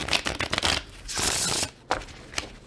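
A Tarot des Ambiguites deck is shuffled by hand, with several quick riffling bursts of card flutter, close and crisp, separated by short pauses.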